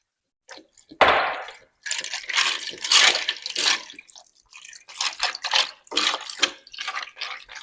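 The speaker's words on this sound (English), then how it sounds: "you're going to add the 6 cups of vegetable broth" Six cups of vegetable broth pour into a pot of pasta for a vegan enchilada pasta, with close liquid splashing and gurgling in several uneven bursts.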